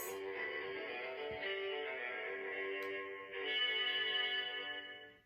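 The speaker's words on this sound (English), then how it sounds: "They are called cellos, and these here are called basses." Cellos and double basses hold sustained low bowed notes, a rich, steady ensemble tone that swells slightly louder toward the end before cutting off.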